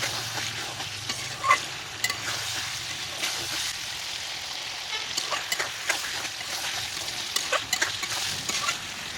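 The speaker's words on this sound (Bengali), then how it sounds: "মশলাটা যেন নিচ থেকে পুড়ে না যায়, সেজন্য ঢাকনা খুলে একটু পরপর নেড়ে চেড়ে দিতে হবে।" Spices fry with a steady low sizzle in an open pan for a fish and vegetable-stem curry, while a utensil stirs and scrapes them in occasional sharp clinks and scratches.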